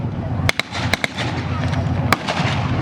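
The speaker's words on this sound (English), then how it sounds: "the Stug has now been taken out by that more upgraded cannon on the Sherman" Sherman tank cannon firing during a battle reenactment at a tank museum weekend show: several sharp, loud bangs in quick succession, then a single later blast over a crowd murmur.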